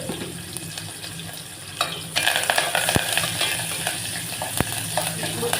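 Onions and curry leaves fry in hot oil in a pan, giving a steady crackling sizzle that grows louder partway through, with a couple of sharp clinks from stirring close by.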